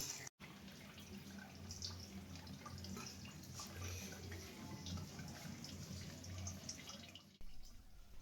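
Distilled rice wine trickles and drips steadily and softly from a still in rural Vietnam against a continuous low background noise, with no voices.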